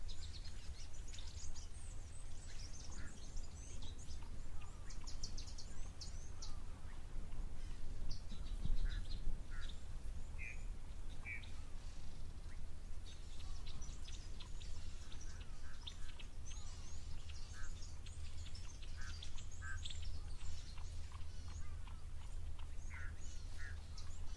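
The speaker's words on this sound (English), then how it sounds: "identify the bird calls we are hearing live" Assorted bird calls, quacks and chirps at a waterhole scattered over a low, steady outdoor rumble, fairly faint and distant, with no talking.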